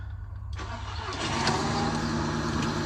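An Audi TT engine cranks briefly and catches, settling into a steady, loud running rumble close by, with the engine management light on.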